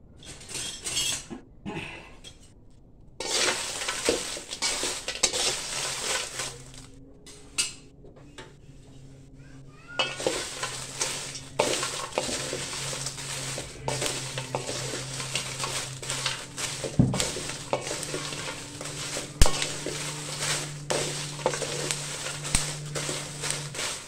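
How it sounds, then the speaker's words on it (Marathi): Dried Byadgi chillies roasted in a dry pan for a masala, with scattered clinks and scrapes of a spoon against metal and light rustling as the chillies are turned, quiet pauses between bursts. "जशी आपण संकेश्वरी मिरची भाजली तशीच आपल्याला आता बेडगी मिरची पण भाजून घ्यायची."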